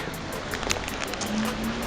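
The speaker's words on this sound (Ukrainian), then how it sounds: "І зараз у нас дощ, і в мене вже всі ноги мокрі." Rain falls on a city street in Austria, giving a steady, even hiss that fills the whole stretch at a moderate level, with a faint regular patter running through it.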